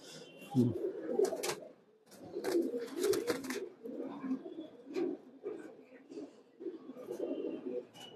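Khaki tournament racing pigeons at a home loft coo in repeated low throaty bursts close by, with a few chirps and brief clatter mixed in.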